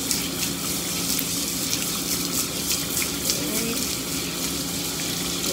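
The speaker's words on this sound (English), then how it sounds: "Making sure I'm getting all these areas nice and rinsed." A Boxer dog is rinsed during a bath, with steady running water spraying continuously and close, filling the whole stretch without pause.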